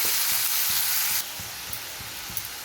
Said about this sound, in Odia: ପିଆଜ ଆମର ଭାଜି ହେଇ ଆସିଲାଣି। ମସଲା ଦେଇଦେବା।